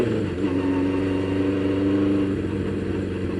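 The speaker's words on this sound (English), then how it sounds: "I think it knocked loose the baffle because it's been rattling since that day" A Honda CB500 motorcycle with a loose exhaust baffle idles in a steady, even mid-pitched drone, close and continuous, with no voices.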